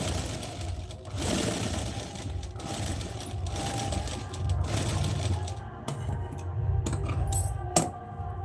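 A sewing machine runs at home in a steady mechanical whir with clicking and rattling, slowing and stopping near the end before a few separate clicks and knocks.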